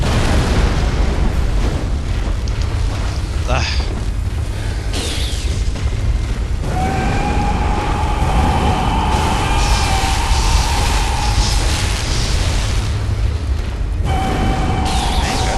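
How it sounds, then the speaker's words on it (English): A long, loud rumbling roar from an explosion in Bloodborne, dense and sustained with a booming low end and crackling debris, holding steady throughout rather than a single short blast. "Explode!"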